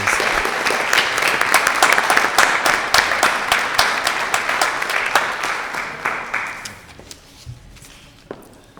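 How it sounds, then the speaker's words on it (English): A crowd at a school committee Q&A applauds steadily with dense clapping that gradually thins out and fades over several seconds. "Let's give a round of applause for all those responses."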